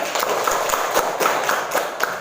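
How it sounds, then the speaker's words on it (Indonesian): Children clap in a classroom, giving a dense burst of applause with some sharper individual claps standing out, moderately loud and continuing through the short clip without speech. "Iya, tepuk tangan tuh Gali."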